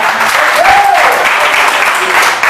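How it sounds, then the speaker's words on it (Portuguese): A church congregation claps for the Lord in a loud, continuous wash of hands, while a brief sung or spoken tone rises and falls beneath it. "Aplauda ao Senhor"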